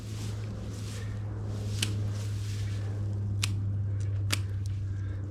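Snips of scissors cutting purslane stems from a garden plant, a few sharp isolated clicks over a steady low hum, close and fairly quiet.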